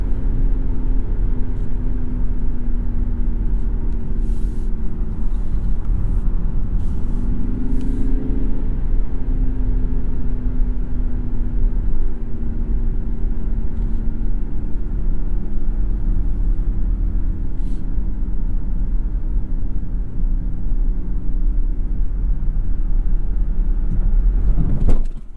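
A 2022 Mazda MX-30 electric vehicle is driven hard through corners, giving a continuous low road and motor drone with a faint rising whine and steady cabin rumble throughout.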